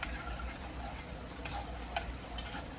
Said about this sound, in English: I'm just going to give the raisins a stir just to loosen them up